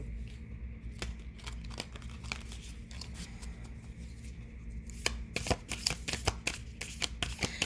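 Tarot cards are shuffled close up in a quiet room with steady, soft riffling and a run of sharper card snaps near the end.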